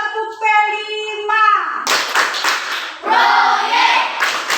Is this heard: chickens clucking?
no